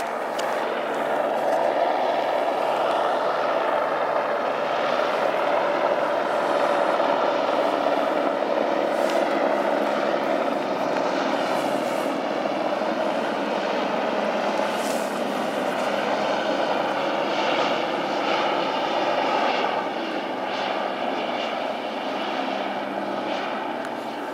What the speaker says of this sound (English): I see the helicopters coming by right now